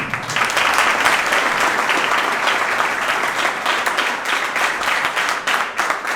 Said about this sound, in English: put your hands together to applaud debaters from both the houses for their truly excellent performance